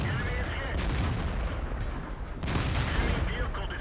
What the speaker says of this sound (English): That was friendly artillery, almost killing all 3 of us in his haste to get this shot